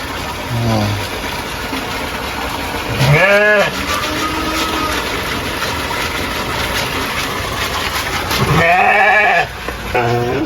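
Breeding ewes with lambs bleating in a farm pen, two loud drawn-out bleats, one around the middle and one near the end, over a steady mechanical hum and background noise.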